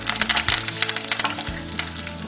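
Dried red chillies and curry leaves frying in hot oil for temple-style tamarind rice, a bright, crackling sizzle with quick popping spatters and a few stirring knocks close by.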